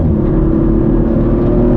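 Engine of a 2023 Audi RS5 Competition Plus while driving, a steady loud low drone with a constant tonal hum throughout, no voices.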